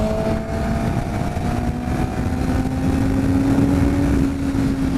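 A 2013 Kawasaki ZX6R ridden at about 80 mph in sixth gear, its engine holding a steady droning tone that climbs slowly in pitch as throttle is added, loud and close under rushing wind.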